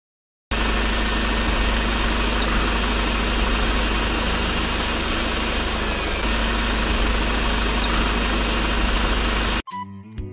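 A tractor engine drones loudly and continuously with a low rumbling hum, running at an even idle for several seconds before cutting off abruptly.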